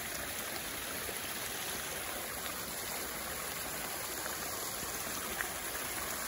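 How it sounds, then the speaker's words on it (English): A waterfall rushing in the outdoors, a steady broadband roar of falling water that stays even and unbroken throughout, with no voices over it. "I'm just going to go up to this side of the waterfall."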